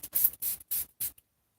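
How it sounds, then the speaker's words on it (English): Four quick hissing bursts of Bonfire Natural oil-free wig spray misted onto an American Girl doll's hair, close and fairly soft, then silence. "now I'm going to take a little bit of the wig spray, which is Bonfire Natural, oil-free"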